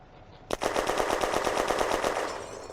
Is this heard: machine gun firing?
yes